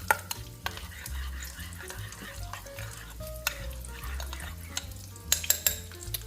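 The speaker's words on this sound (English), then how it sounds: "gonna stir them up in here pretty good and put them in the microwave" A spoon stirs grits in a bowl, making soft scraping and clinking strokes in an irregular rhythm, close and fairly quiet over a low steady hum.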